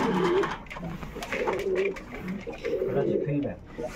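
A black feedback breed pigeon coos in soft, throaty rolling calls, repeated several times close by, while a person talks over it.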